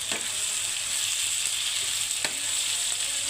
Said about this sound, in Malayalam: ഒരു ചെറിയ സ്പൂൺ മഞ്ഞൾപ്പൊടി ഇട്ട് അതിനെ ഒന്ന് ഇളക്കി കൊടുക്കാം.